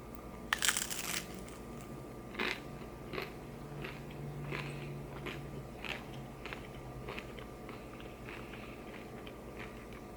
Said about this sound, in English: we'll dive into one of these grease bomb tacos